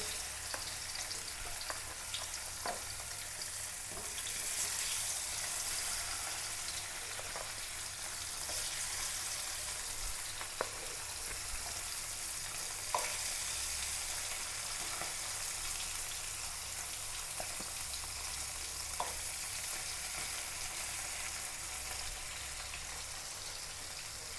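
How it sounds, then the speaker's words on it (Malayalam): Salted fish fry in a pan with a steady, soft sizzle and crackle, scattered pops and occasional clicks of a utensil over a constant low kitchen rumble, heard at a moderate distance without speech. "കുറച്ചെടുത്ത് ഞാൻ ഉപ്പ് പുരട്ടി മൂന്നാല് മീനും കൂടി വറുക്കാം"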